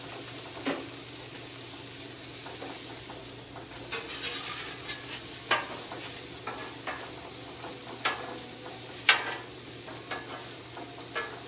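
Smashburger tacos sear on a flat-top griddle with a steady, moderate sizzle and frying hiss, broken by occasional scraping and spatula taps, with no talking.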